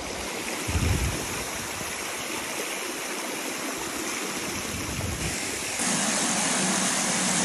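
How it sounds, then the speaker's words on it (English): Steady rushing water of a stream flowing straight out of a mountainside nearby, a continuous broadband splash that swells louder toward the end, with no voices. "The water comes right out of the mountain on this side."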